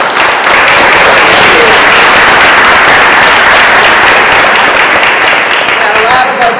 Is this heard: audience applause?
yes